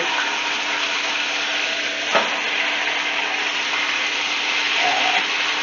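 Large pork steaks flipped in a Copper Chef roaster: a steady, close sizzle of frying meat, one brief knock or scrape as a steak is turned, then the frying carries on.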